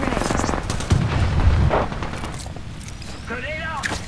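Rapid video game gunfire rattles in dense bursts alongside thuds and booms during a chaotic firefight, with voices calling out over the shooting.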